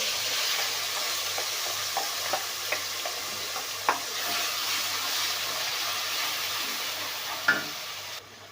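Turmeric and spices are stirred and roasted in a pan for a potato sabzi: a steady close sizzle and hiss throughout, with sparse clicks of the spoon against the pan and no talking.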